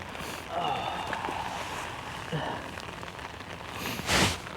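Rain pattering on a camping tarp at a riverside kayak campsite in the Delaware Water Gap, a steady soft hiss of drops with a louder splash burst near the end.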